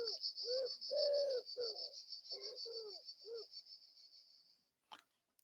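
A wood pigeon coos a five-note phrase, its low hooting notes in a rhythmic series over a steady high insect-like hiss, moderately close, followed by a short sharp noise at the end.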